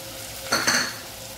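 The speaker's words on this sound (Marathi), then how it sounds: "त्यात टाकूया खडे मसाले, त्यात टाकूया बटाटा" Whole spices and potato chunks hitting hot oil in a pan for veg pulao, giving two quick close sizzling bursts with a faint metallic scrape, then settling to a soft background hiss.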